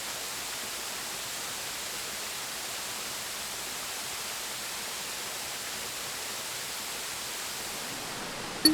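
Yellow Branch Falls, named for a nearby stream, gives a soft, even hiss of falling water that stays faint and unbroken throughout.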